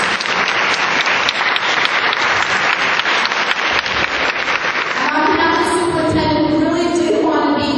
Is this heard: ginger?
no